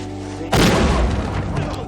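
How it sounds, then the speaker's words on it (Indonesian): A sudden loud explosive boom as a small homemade gunpowder rocket explodes after a brief quiet hum, followed by a crackling, rumbling tail that slowly fades. "Alhasil, bukannya terbang, roket itu malah meledak."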